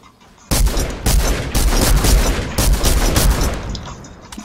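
A new infantry rifle fires in a video game, a series of loud, close shots in quick, evenly spaced succession with no speech over them.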